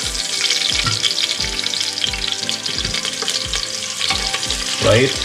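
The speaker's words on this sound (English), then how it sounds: "I'm gonna add green chilies" Green chilies fry in ghee in a pan while mutton leg soup is being made, a steady crackling sizzle broken by regular thumps of stirring, close and fairly loud, with a brief louder flare near the end.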